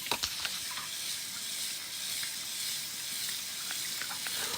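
Water rinsed over a hot grill lid hisses and sizzles in a steady broadband wash, close and moderately loud, with a few sharp splashes near the start and no talking.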